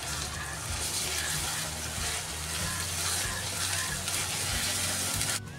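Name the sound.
onion with ginger and garlic paste frying while stirred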